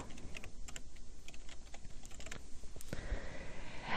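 Quick bursts of typing on a computer keyboard as a layer name is entered, with light, rapid key taps close up and no talk.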